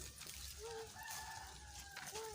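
Chickens cluck and call nearby, with a drawn-out rooster-like cry and short clucks overlapping in a farmyard setting.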